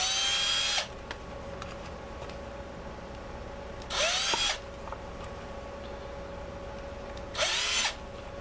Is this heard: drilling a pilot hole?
yes